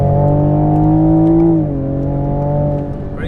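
A Toyota Supra engine under hard driving holds a loud, steady high rev with clear harmonic drone, drops in pitch midway as it shifts, then pulls again, close and dominant with no talk.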